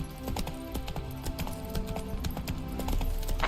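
Roach, the horse in the video game The Witcher 3, clip-clops with hooves in a brisk steady rhythm, mixed with game music and ambience throughout, with no clear whinny.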